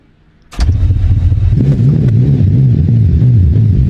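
A naturally aspirated nitro methanol drag car engine in the BeamNG video game fires up abruptly after a short quiet lead-in, then settles into a loud, lumpy, rhythmic big-cam idle with a loping pulse, heard up close and alone.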